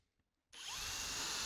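A power drill starts up after about half a second of quiet and runs steadily and loudly to the end, boring a hole while held in a Milescraft DrillMate Pro drill guide in a workshop.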